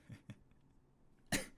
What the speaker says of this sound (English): I'm probably gonna cough like every 5 seconds.